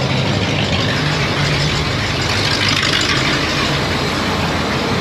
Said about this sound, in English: That truck sounds like a beast